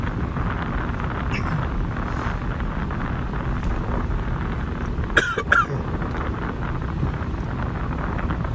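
A person coughs a few times from a tickle in the throat, short sharp bursts close to the microphone over constant wind noise and low rumble.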